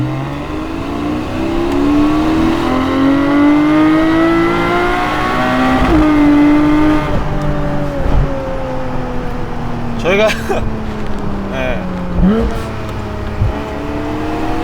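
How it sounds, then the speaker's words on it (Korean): A Porsche 718 Cayman GTS 4.0 pulls hard in second gear on a highway, its exhaust note rising steadily with several sharp upshift-like drops, loud and continuous beneath someone talking. "이런 정도의 배기 소리가 난다."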